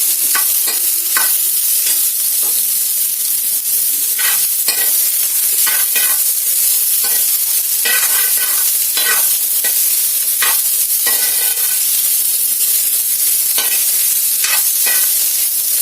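Radish pieces frying and being stirred in a little oil in a pan, with steady close sizzling and repeated scraping strokes of a spatula throughout.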